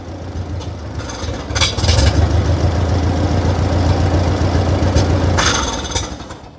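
Massey Ferguson TO30 tractor engine running on choke with a carburetor being adjusted, a steady low rumbling idle that swells louder mid-clip and holds, with no talk over it.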